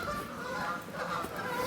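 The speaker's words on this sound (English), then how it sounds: "it's just basically Canada geese trying to have sex right now" Canada geese honking and calling in a busy mating-season group at Cannock Chase, a steady cluster of harsh honks overlapping at moderate distance with no talk.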